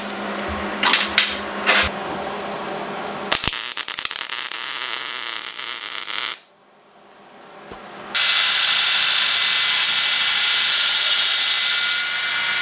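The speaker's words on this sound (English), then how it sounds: "I think we can finish welding that now." Stubby AR bayonet being welded: steady, loud broadband buzzing and crackling arc noise that cuts out briefly partway, then resumes, with short sharp clicks and ticks near the start.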